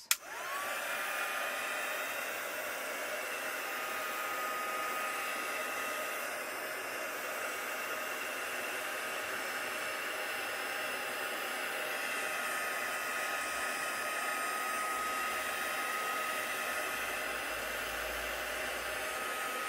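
A hair dryer blows steadily and close throughout while drying ink on a craft background over a heat-proof mat, a constant breathy roar with no talking.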